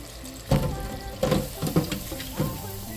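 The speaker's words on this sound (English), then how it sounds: "They ready to come up out that grease." Shrimp fry in hot grease with a continuous sizzling crackle, punctuated by several louder bursts of spattering as they are stirred or lifted, heard close up.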